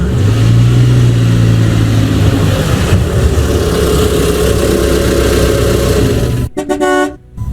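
A car engine idles at the roadside with a steady low rumble that fills the scene, then a few short horn toots sound near the end.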